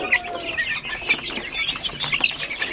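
Silkie chicken chicks in a backyard breeder pen, a dense chorus of high peeping chirps with some wing flutter and clucks, close and continuous, no talking.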